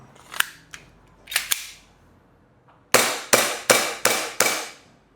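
An ENC 1103 airsoft Glock 18C pistol fires close by: a few scattered light clicks and pops, then five sharp, evenly spaced shots in quick succession.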